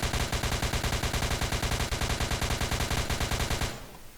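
Rapid automatic gunfire from an M2 in the Roblox game ER:LC, a loud, steady stream of shots lasting several seconds before cutting off abruptly into quiet.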